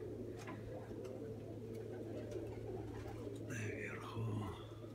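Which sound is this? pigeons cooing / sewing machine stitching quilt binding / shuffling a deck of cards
pigeons cooing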